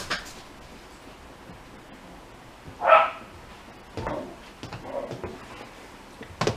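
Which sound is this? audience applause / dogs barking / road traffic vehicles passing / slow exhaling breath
dogs barking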